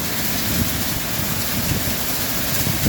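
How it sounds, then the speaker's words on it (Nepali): Heavy rain pours down steadily over a wheat field during harvest in hilly Nepal, a dense, loud, unbroken hiss with no voices. "यस्तो पानी पऱ्यो गाइज"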